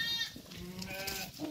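Goats for sale at a livestock pen bleat faintly in overlapping wavering calls, with distant farm noise around them.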